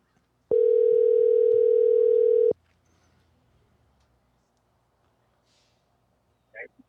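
A loud steady telephone dial tone sounds for about two seconds during an outgoing call, then stops, leaving quiet line hiss and a faint brief sound at the end.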